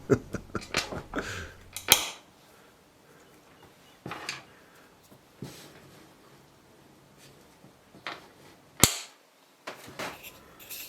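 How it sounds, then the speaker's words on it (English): Magnets on a wooden TV transport box cabinet snap together in a series of sharp, close clicks, a quick cluster at the start and a few isolated snaps later, with quiet gaps between. "I just love how these magnets flick together"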